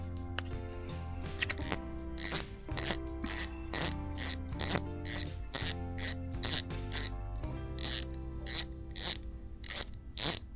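A Shimano Stradic C 5000 spinning reel cranked after reassembly, giving a steady run of rapid mechanical gear clicks and whirring in regular bursts, close and clear, with no talking.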